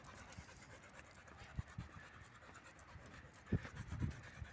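Tina the dog pants while walking along the seafront at La Mata, quick faint breaths with scattered scuffs and scratchy thumps from paws or gear, close to the microphone and without talk.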